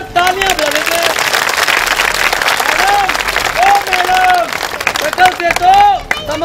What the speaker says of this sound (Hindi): मैडम के लिए जोरदार तालियां बजा देते हैं